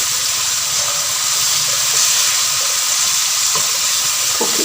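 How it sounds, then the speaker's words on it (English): Ginger garlic paste sizzles in a hot pan while mutton dalcha is being made, a loud continuous hissing fry close by with no voices. "now I'm going to put it the blended remainder of that ginger garlic paste"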